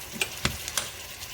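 A spoon clicks and scrapes a few times against a pot of tomato sauce with thyme and herbs, over a soft simmering hiss.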